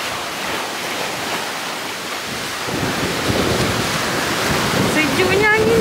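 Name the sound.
seaside with waves and wind after rain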